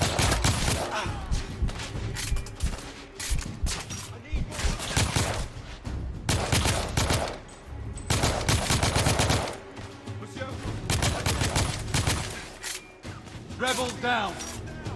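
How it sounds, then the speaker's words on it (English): Suppressing gunfire in The Order: 1886, sustained loud bursts of automatic weapons fire in repeated volleys with brief lulls, shouted voices breaking through in places. "Taking suppressing fire!"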